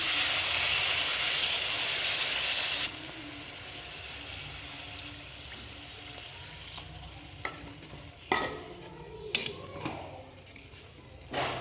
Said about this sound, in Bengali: এবার এটাকে সুন্দর করে একটু কষে নেব